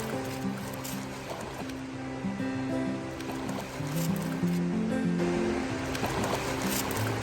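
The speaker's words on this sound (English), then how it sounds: "This is the river we are camped along right now." A river flows past a campground in North Cascades National Park, a steady, full rush of water that runs unbroken and fairly close throughout, with some low tonal sounds layered underneath.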